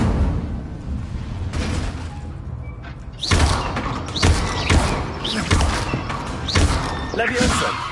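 Incendio fire spell casts in the Hogwarts Legacy video game, a string of sharp flaring bursts and thuds at a steady pace in the second half, after a quieter stretch with a few soft knocks.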